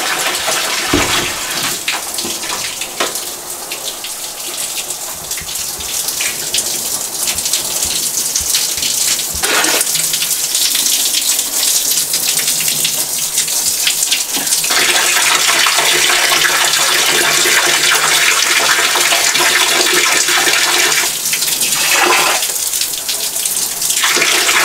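A tub is filled with water for a pet water monitor lizard, a loud, steady rush and splash of running water that continues without pause and dominates throughout, with no talking.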